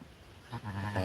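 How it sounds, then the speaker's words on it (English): A ewe sheep with newborn twin ram lambs gives a short, close bleat that swells into a wavering cry near the end, heard on its own. "mama sheep, so a ewe, and two ram lambs and two baby boys."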